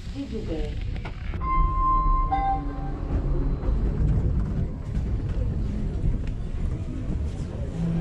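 A crowded metro train in Georgia rumbles along with a steady low roar, a brief high whine of the train near the start, and people talking over it.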